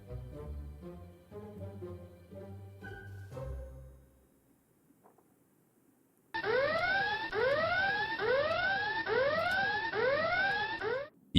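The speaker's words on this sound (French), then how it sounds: "Olivier, pourquoi as-tu déclenché l'alarme des secrets?" In The Sims 4, a secrets alarm in a reality-show house rings as a loud, repeating rising siren-like wail after a short tonal musical passage and a near-silent pause.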